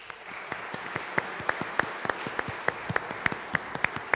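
Sparse applause from a church congregation at a Sunday Mass, a small group clapping in a quick, steady rhythm of distinct claps, fairly faint and somewhat distant.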